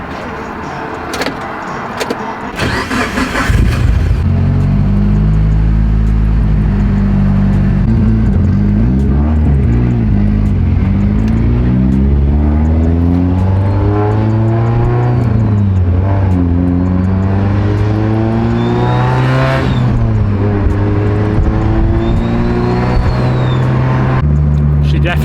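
A 700+ horsepower Mitsubishi Evo 8 engine idles loudly and rough after starting, then gets a few light revs that rise and fall, with steady engine drone throughout and a voice speaking briefly over it.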